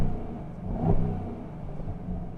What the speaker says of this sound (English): let's go ahead and give her a couple revs